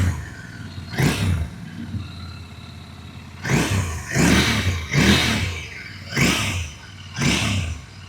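A Royal Enfield Interceptor 650 with a stainless steel exhaust revs in several short bursts, idling between throttle blips, with a deep throaty exhaust tone close by.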